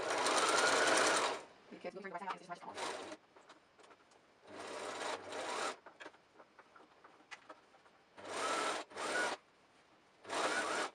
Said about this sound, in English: switch to the machine. Make sure you backstitch.